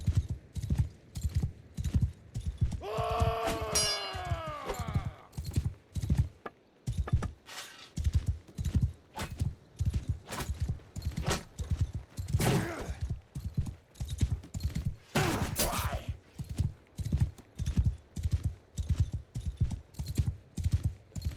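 Rapid clip-clop of many horses' hooves galloping in a dense, rhythmic patter in a video game, with a horse whinnying briefly early on and scattered clanks over the thundering hoofbeats of a cavalry charge.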